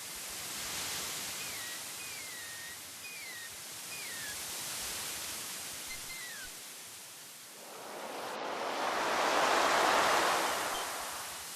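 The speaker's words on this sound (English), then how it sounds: "There is a large rock in the ocean a short way from shore. Small waves lap at the edges." Gentle surf laps at a sandy shore near a large rock in King's Quest II, a steady wash of noise that swells louder in the last few seconds, with a few faint chirping calls early on.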